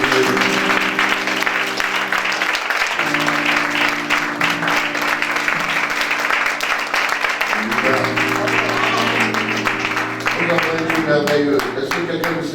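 A church congregation bursts into sustained applause and cheering to acclaim the Lord, loud and continuous throughout, with a steady organ or keyboard chord and voices woven into the clapping.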